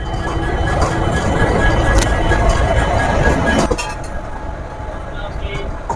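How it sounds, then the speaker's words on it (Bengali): A white-and-red MEMU train pulls out of platform five at Rampurhat Junction, a steady loud rumble of wheels and carriage noise that drops suddenly in level partway through. "আমাদের ট্রেন এখন ছেড়ে যাচ্ছে রামপুরহাট জংশন রেল স্টেশনের পাঁচ নম্বর প্ল্যাটফর্ম থেকে"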